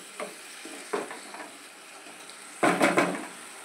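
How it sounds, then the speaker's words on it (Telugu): Onion, tomato, garlic, green chili, chili powder, turmeric and salt paste being stirred and fried in a pan for a spinach onion karam, with several close scraping stirs over a soft sizzle, the last stirs louder and longer. "ఇది ఇందులో వేసి బాగా కలుపుకొని మూత వేసిద్దాం. ఒక కొద్ది నిమిషాలు పచ్చి వాసన అంతా పోయినంత వరకు వేపుకుందాం."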